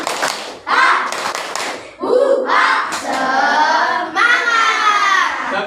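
Schoolchildren in a classroom perform a rhythmic spirit clap as an ice-breaker, sharp bursts of hand claps alternating with loud chanted group voices, close and energetic throughout.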